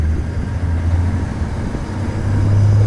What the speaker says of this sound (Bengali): ইঞ্জিনের শক্তি বাড়ানোর জন্য আমাদের ড্রাইভার সাহেব এখানে একটু দাঁড়ালো, এখন উপরের দিকে আবার উঠছে।